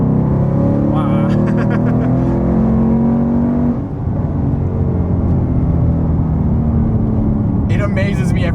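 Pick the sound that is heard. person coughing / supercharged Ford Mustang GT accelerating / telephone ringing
supercharged Ford Mustang GT accelerating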